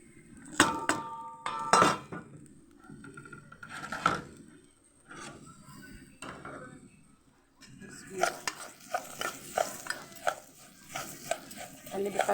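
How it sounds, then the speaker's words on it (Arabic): Zucchini being stirred and sautéed in a pot, with metal utensil clinks and scrapes in bursts and a faint sizzle underneath, plus some talking in between. "قلبي فيها شويه كده وتشوحي"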